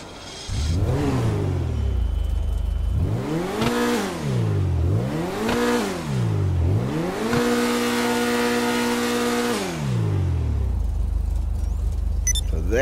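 A car engine in GTA Online revs repeatedly in loud rising and falling sweeps, three quick climbs followed by a long sustained high rev before dropping back to idle, with no talking.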